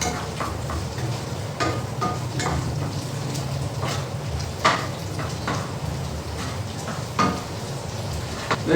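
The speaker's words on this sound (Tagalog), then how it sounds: "naging prito na siya." Food frying in a pan, moving from burger to fried siomai, gives a steady broadband sizzle throughout with occasional crackles and pops. No one speaks over it.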